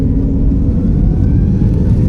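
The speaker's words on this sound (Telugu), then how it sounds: "ఆ ఫ్లైట్ రన్ అవుతూ ఉంది" An airliner on a flight from Bangalore to Jaipur accelerating down the runway for takeoff: a loud, steady, low engine rumble with no break and no voices.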